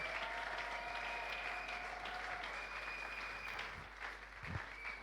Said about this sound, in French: Encore une fois, acclamons lui.